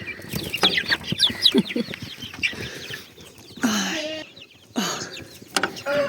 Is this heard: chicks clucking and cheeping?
yes